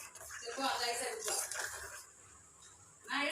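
Spoon stirring custard powder and milk in a pan, with quiet metallic scraping and light clinks against the metal, faint and close, under a person talking.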